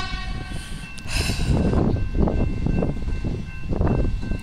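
A metro train passes nearby with a rising rumble and rhythmic clattering over the rails, and a brief high tone early on, loud and steady to the end.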